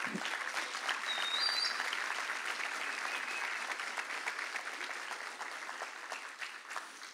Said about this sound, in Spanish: ¿Cuánto un aplauso al Señor por eso?